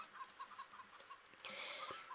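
Chickens clucking in a farm simulator video game, a few soft, spaced clucks and short calls at low volume with no talking.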